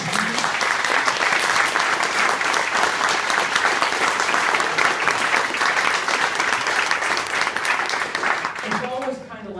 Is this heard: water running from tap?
no